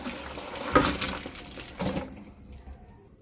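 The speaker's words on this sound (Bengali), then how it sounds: "এবার জলটা ঝরিয়ে নেব" Boiled chicken pieces drained of their cooking water, with two brief splashing pours of liquid followed by a quieter tail of dripping.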